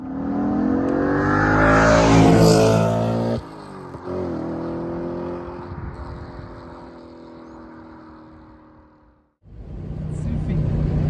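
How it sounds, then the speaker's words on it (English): An Audi B7 RS4 Avant with a modified intake growls as its V8 revs up and settles, loud and close, then briefly cuts out before rising again, with people talking alongside. "The sound that you're hearing here, that growl, that's the intake"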